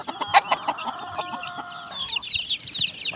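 Pet chicks in a small poultry pen give a flurry of soft clucks and high cheeps, close and lively, scattered irregularly throughout over light rustling, with no talking.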